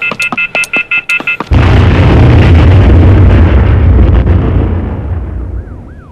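A rapid series of electronic beeps cuts off into a deafening cartoon explosion, a sustained roaring boom that fills everything and slowly fades, with a faint whistling tone near the end.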